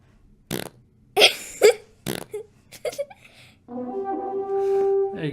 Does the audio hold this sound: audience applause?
no